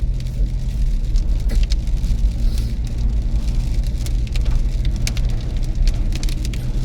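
Rain pelts a car driving through Royal National Park near Stanwell Park in Australia, a loud, steady hiss of drops over the constant rumble of the engine and tyres on the road, with no voices.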